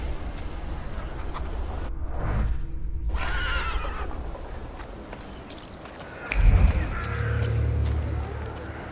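A horse neighs loudly in The Thaumaturge video game, a rising whinny followed later by a second shorter snort-like call, set against a steady ambient game background with no talk.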